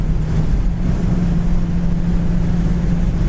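A red 1971 Ford Mustang Mach 1 Ram Air cruises at highway speed around 2600 RPM, a steady, loud low engine drone with road and wind rumble, no voices.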